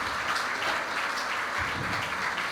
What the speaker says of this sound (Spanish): Fuertes los aplausos para los hermanos